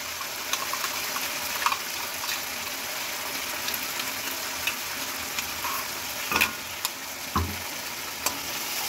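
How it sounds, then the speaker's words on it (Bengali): Tomato and mustard-poppy paste fry in a pan for tilapia curry, a steady low sizzle with occasional spatula scrapes and soft clinks over a constant hiss. "এবার একটু ভেজে নেব ভালো করে।"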